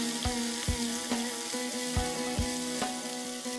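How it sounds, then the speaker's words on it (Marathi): Finely chopped onions fry in two to three tablespoons of hot oil in a kadai, giving a close, continuous sizzle broken by a few sharp spatula taps. "तेल गरम झालं की त्याच्यात 2 कांदे बारीक चिरलेले आपण परतून घेऊया"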